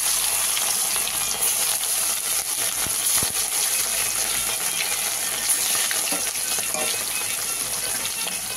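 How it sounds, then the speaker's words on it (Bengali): Fish pieces frying in hot oil for an aloo beans fish curry, a steady loud hiss and crackle running throughout with a few brief clinks, no talking. "তেলটা গরম হয়ে গেছে, এবার আমি দিয়ে দিচ্ছি এক এক করে মাছগুলো।"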